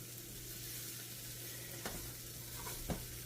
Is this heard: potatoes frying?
yes